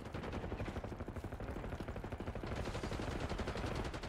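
Rapid continuous gunfire from a Call of Duty Black Ops 6 match with the player using a sniper rifle, a dense, steady barrage of shots throughout with no clear gaps.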